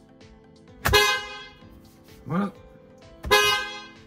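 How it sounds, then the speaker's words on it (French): A Tesla Model 3 or Model Y car horn honks twice, loud and close, with a short burst of speech between the honks. "On va klaxonner un coup."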